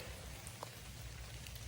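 Steady rain patters on a surface while riding in the rain, a dense even hiss with a few distinct drops.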